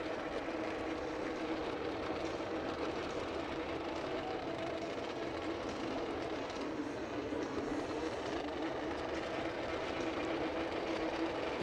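Snowmobile engines racing at a National Snowcross event in Barrie, Ontario, a steady loud broadband engine roar throughout, with popping from raw fuel in the exhaust blended into the continuous drone.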